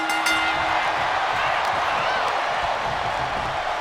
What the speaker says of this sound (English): The crowd is electric for this one.